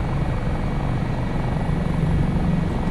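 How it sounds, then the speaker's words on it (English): A US Coast Guard HH-65 Dolphin helicopter in Microsoft Flight Simulator 2024 flies over Alaskan ridges near Valdez, its rotor and turbine producing a loud, steady, close drone with a low rumbling beat. "You actually heard the helicopter shake when it took then, when it hit."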